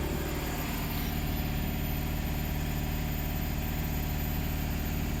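A Mahindra Marazzo BS6 diesel engine idling during DPF regeneration, a loud, steady, unbroken rumble with a dense low throb that holds constant throughout, with no voices.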